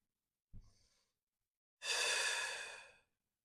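A person breathing during a yoga twist: a short soft intake, a pause, then a long audible breathy exhale, close and alone in a quiet room.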